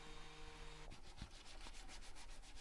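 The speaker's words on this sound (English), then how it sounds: "I then hand sanded it with a 120 grit, and then went up to a 240 grit" Hand sanding of a wooden mallet with 120 grit sandpaper, faint rhythmic rubbing strokes repeating at a steady pace after a brief quiet start, close and alone without speech.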